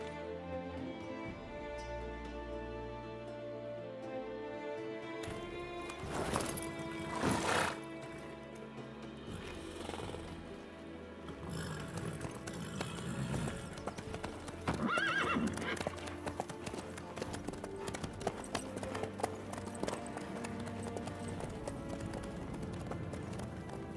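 Horse hooves clip-clopping at a run with loud neighs and whinnies in the Witcher 3 video game, set against music and game ambience, the gallop building to a busier stretch toward the end.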